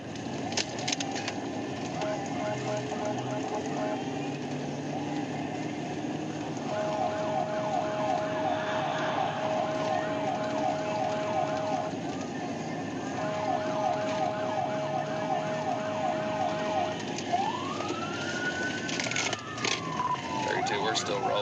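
Police car siren wailing during a DWI pursuit of a Dodge Caravan, a repeating electronic sweep tone heard from inside the trooper's vehicle over steady road and engine noise, with radio chatter in the background.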